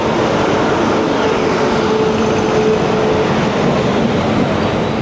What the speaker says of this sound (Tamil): நாங்கள் போக வேண்டிய ரயில் வந்துட்டு